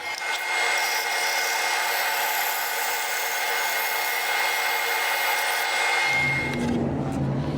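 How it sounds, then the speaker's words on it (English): Band saw cutting a curved line through wood, a loud steady whine and rasp of the blade in the board that drops away near the end as the cut finishes, with no speech. "bandsaw is pretty good for doing curved cuts, much like a jigsaw"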